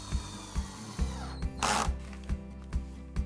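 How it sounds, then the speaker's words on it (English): A power drill drives screws through corner brackets into the underside of a wooden coffee tabletop, a steady close motor whine with rhythmic clicking pulses and a brief louder burst of grinding midway. "Take the frame and screw each corner bracket to the bottom of the tabletop."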